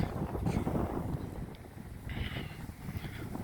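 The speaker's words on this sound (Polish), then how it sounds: "Ale wieje. Nieprzyjemnie jest." Strong winter wind blowing outdoors on a snowy day, a steady, loud rushing buffet with gusty texture across the whole stretch, close to the microphone, with no talk.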